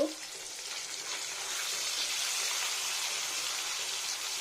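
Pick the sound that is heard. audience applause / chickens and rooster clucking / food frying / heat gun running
food frying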